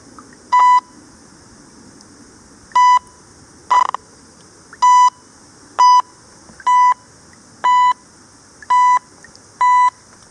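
A metal detector's loud, clean electronic target tone beeps repeatedly, nine short pulses spaced about a second apart, with a brief buzzier burst among them.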